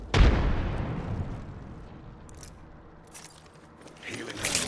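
A frag grenade explodes in the video game Apex Legends with a single loud, close blast that trails off into a rumbling tail, followed by fainter game noises.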